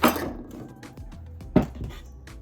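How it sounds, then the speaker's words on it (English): Chopped onions, cilantro and cucumber dropped into a bowl of lemon-marinated shrimp ceviche: several close clunks and clinks of a utensil against the bowl, with soft thuds in between. "Enter onions, cilantro, and our cucumber. Put all that in there."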